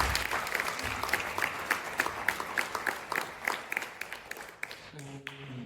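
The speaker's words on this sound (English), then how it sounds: "A bit louder applause, please." Audience applause for a speaker at a Bhagavad Gita talk in Frankfurt, a steady patter of many hands that thins toward the end into a few scattered claps, fairly distant and moderate in level.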